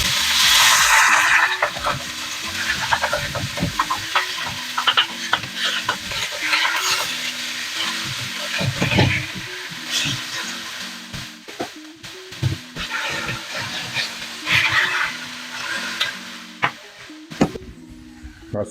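Pork mince hits an oiled wok and fries with a loud sizzle, while a utensil scrapes and stirs it in repeated rhythmic strokes, close and busy throughout.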